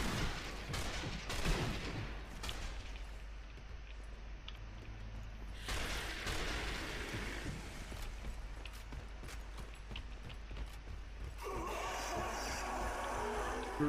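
Automatic rifle fire in the zombie shooter Zombie Army Trilogy rattles out in repeated bursts and sharp shots, with booming impacts and loud game effects between volleys.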